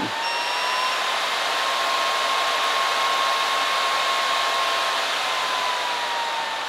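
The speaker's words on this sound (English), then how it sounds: "you can hear the fan slowly kicking in and it will go all the way up to the max speed of the fan" A PS3 cooling fan whirs with a steady airy rush and a thin whine, holding at a loud, even speed throughout with no voices.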